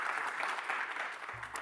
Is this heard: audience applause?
yes